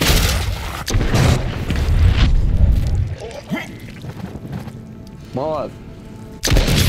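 Fireworks go off in the zombie game Dead Island 2 as heavy booms and crackling bursts, loud and close, followed by quieter pops and a whistling rise. Someone speaks briefly during the noise.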